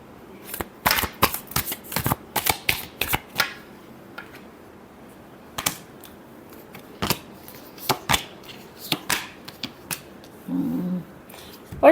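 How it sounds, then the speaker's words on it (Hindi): A deck of tarot cards is shuffled in quick riffling bursts, crisp and close, with pauses between the bursts of flicking and snapping card sounds and no speech over them. "Last shuffle."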